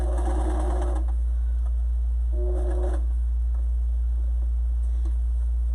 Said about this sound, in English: Let me sew around there so we keep that nose piece in the right place.